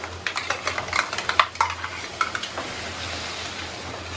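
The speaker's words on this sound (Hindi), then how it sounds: "पालक की पेस्ट डाल देंगे।" Spinach paste being stirred into a hot cooking pan for lehsuni palak: a utensil scrapes and clinks against the pan in quick bursts over a soft background sizzle, then settles into a quieter hiss.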